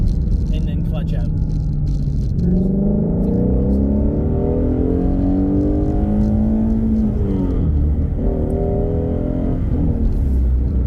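A car engine with a manual clutch revs and rises in pitch, loud and close, settling and then climbing again, with someone talking over it at times.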